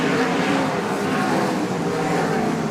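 A loud, roaring race car engine pushes hard and steady at close range at Cromwell raceway, its rasping drone filling the whole clip without a break.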